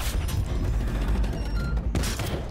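Rapid gunfire from Asmodan, a boss enemy in The First Descendant, loud bursts of shots with booming low thumps, nearly continuous with a brief lull before another burst.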